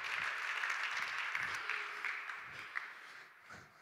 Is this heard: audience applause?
yes